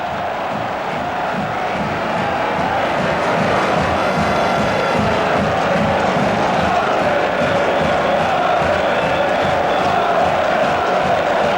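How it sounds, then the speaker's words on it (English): A Champions League football stadium crowd at Sturm Graz against Manchester United roars continuously, a dense, loud, unbroken wall of cheering and chanting that holds for over ten seconds with no lulls. "Now just listen to the crowd now"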